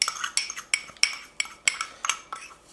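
A metal spoon stirs seasoning through cherry tomatoes in a bowl, ringing out in about eight sharp, evenly spaced clinks and scrapes against the dish, close and clear with no voices.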